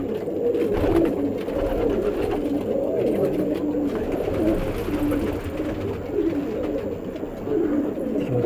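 Many pigeons coo together inside a large net enclosure, a continuous low, warbling chorus of overlapping calls heard close by and fairly loud throughout.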